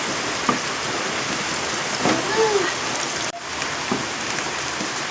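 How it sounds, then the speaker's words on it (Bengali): Onions frying in a pan for ghugni, a steady soft sizzle and crackle running throughout at moderate level, with no talking. "আমি পেঁয়াজটা লাল লাল করে ভেজে নেব।"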